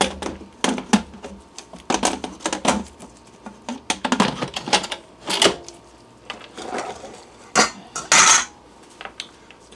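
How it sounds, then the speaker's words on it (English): Lid of an electric pressure cooker being handled and fitted back on, a series of sharp metallic and plastic clicks, clanks and scrapes in uneven bursts, close and fairly loud. "we're going to put the pressure cooker lid back on"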